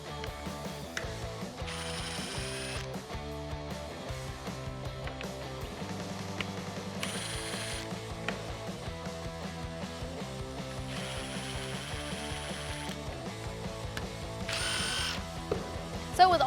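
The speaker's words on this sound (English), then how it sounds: "our fog light mounts are held in place by 4 7mm bolts. We're gonna go ahead and remove those on each side." A ratchet removes the four 7mm fog light mount bolts on a 2005-2009 Mustang GT, giving a continuous mechanical clicking and turning over a steady background, close and with no talk.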